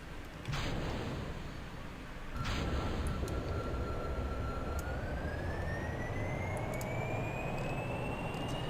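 A rocket lifts off in Kerbal Space Program, beginning with a sudden loud engine roar. A second, bigger burst of thrust follows and keeps up a steady roar, while a thin tone slowly rises in pitch above it.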